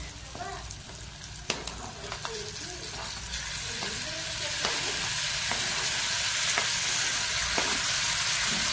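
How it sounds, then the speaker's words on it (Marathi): Chopped tomatoes fry in ghee in a pan, a steady close sizzle that grows denser and louder, broken by occasional stirring clicks. "आता याच्यामध्ये टोमॅटो टाकायचे आहेत।"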